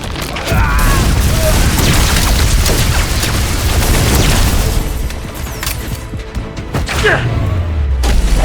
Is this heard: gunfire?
yes